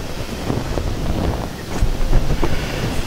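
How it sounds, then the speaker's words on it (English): Strong wind gusts buffet the microphone beside a moored narrowboat on a bright day, a loud continuous rumble swelling and easing with each gust and no speech. "Well, it's a bit windy."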